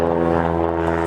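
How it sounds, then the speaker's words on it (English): A propeller airplane passes over an outdoor car event at Goodwood, giving a steady, loud droning hum with layered engine tones throughout. "There's a plane."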